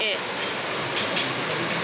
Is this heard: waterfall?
yes